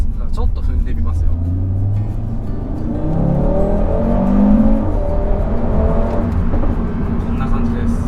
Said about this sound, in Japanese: このね加速感もそうですし、バブリングもたまらんですよね